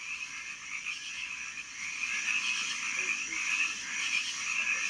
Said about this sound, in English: If you guessed frogs, you're right.